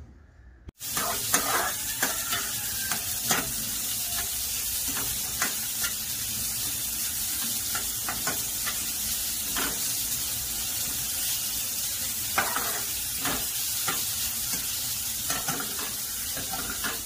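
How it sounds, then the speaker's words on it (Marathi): Cabbage and other vegetables stir-fried for veg noodles, a close, continuous sizzle broken by repeated scraping and tossing strokes of a spatula in the pan, no voices. "या भाज्या त्या सर्व शिजवून घेऊया आपण।"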